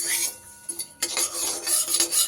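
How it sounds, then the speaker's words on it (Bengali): Poppy seeds and white sesame seeds dry roasting in a pan, with scraping, stirring and light rattling of a utensil against the metal, close and fairly busy throughout. "এই তিল আর পোস্তটাকে একটু শুকনো খোলায় আমি ভাজা করে নেব"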